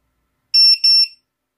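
Two loud, shrill electronic beeps in quick succession, a piercing high-pitched drone beacon buzzer alarm close by, then silence.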